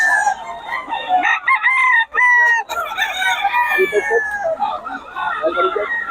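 Chickens and roosters at Bocaue crow and cluck loudly and continuously, several long harmonic crows overlapping one another, with busy, nearby fowl chatter and background human voices mixed in.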